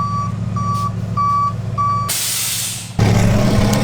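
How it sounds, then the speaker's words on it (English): A heavy tow truck backs up with four steady reversing beeps, then a loud air-brake hiss, followed by the engine rumbling close by. "Tow truck's here."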